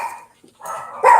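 A dog barks nearby during a live stream, a short sequence of loud, sharp barks in quick succession.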